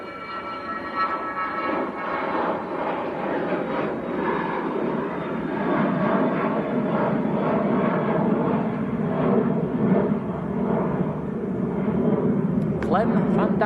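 A Cessna Citation 680 business jet at Manchester Airport gives off a sustained, loud engine roar with whining tones that swells gradually, while a voice talks over it.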